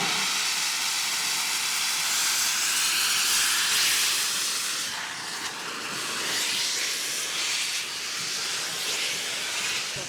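A loud, continuous hiss of steam from nearby steam locomotive 5619 at a heritage railway open day, steady and broadband with slight swells, no voices.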